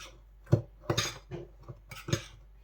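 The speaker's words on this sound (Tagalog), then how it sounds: "Haluin lang natin para ma-mix ang mga ingredients." A spoon knocks and scrapes inside a mixing bowl as banana muffin batter ingredients are stirred together: a few sharp clinks and soft scrapes spaced irregularly, close by and fairly quiet, with no talking.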